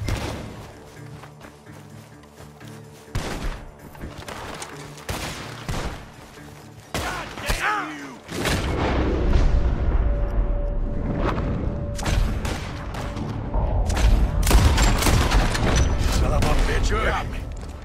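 Gunfire in the Red Dead Redemption video game, a shootout near a barn, with loud bursts of repeated shots and booms that grow denser and sustained in the second half, mixed with game music and character voices.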